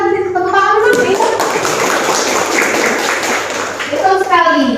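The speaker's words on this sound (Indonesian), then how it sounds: "Tepuk tangan dulu Indah." A classroom of students claps for a classmate, a dense burst of hand claps lasting a few seconds between stretches of speech.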